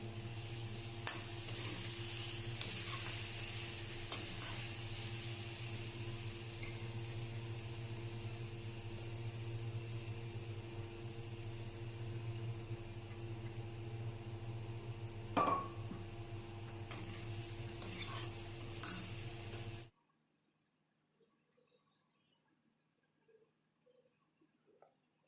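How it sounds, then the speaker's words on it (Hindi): Boiled masoor lentils stirred and frying in a pan with chopped tomato for masoor tahri, a steady close sizzle with scraping stir strokes for about twenty seconds, then near silence. "अब इसे भूनेंगे। अब इसमें हमने जो मसूर उबाल के रखा था उसे ऐड कर देंगे।"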